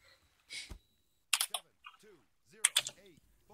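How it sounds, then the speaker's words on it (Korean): Computer keyboard typing in short bursts of clicks, fairly quiet, alternating with brief voice chat during an Arma 3 multiplayer mission. "키보드 소리."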